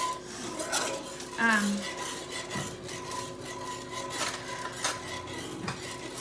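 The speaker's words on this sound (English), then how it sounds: "Mix this guy because I know it's getting thick because I was not mixing there for a second." A thickening mixture is stirred in a pan, giving a steady scraping and rasping of the utensil against the pan bottom with occasional heavier knocks, close and fairly quiet.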